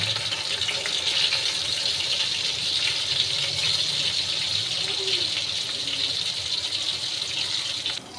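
Water pours steadily off boiled noodles in a continuous, fairly close gushing stream that lasts throughout and fades slightly at the very end.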